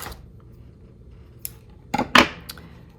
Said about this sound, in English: I'm going to cut this now.